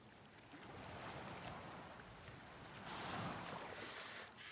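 Boat moving across open water in Assassin's Creed Valhalla, a steady wash of waves and wind that swells slightly toward the end, with no talk.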